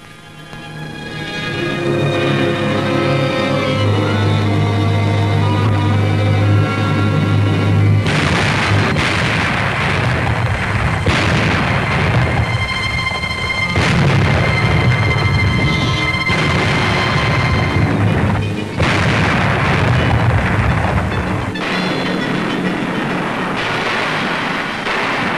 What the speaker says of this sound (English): The powerful U.S. task force, which included a number of aircraft carriers, of course, heavily bombarded the island defenses before the landing.